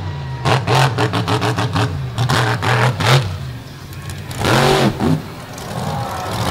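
A monster truck engine revs hard and fluctuates while the truck churns through loose beach sand at a beach monster truck show. The roar is loud and close, with surging bursts and a brief dip before a second strong rev.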